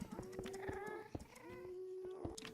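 Ghasts crying in the Minecraft Nether, faint, drawn-out, cat-like wailing tones repeating twice at a distance among soft clicks and game noise.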